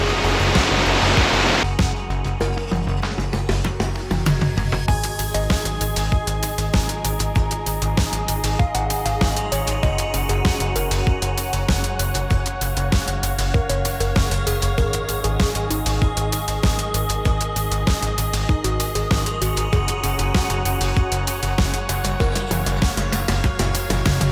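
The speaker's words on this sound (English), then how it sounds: "There's a flume waterfall up there, huh?" Water rushes steadily down a flume waterfall beside an uphill trail in bear country, a loud, continuous roar of falling water that holds constant throughout with no talking.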